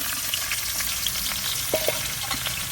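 Potatoes and cauliflower sizzle steadily in hot oil in a wok, a loud continuous frying hiss with a few faint stirring scrapes, no voices.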